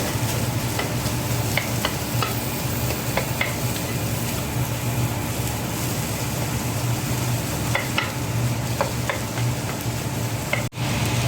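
Egg with onion, green chilli and carrot being stirred in a hot cooking pan, steady sizzling overlaid with scattered spatula taps and scrapes, close and fairly loud, with no speech.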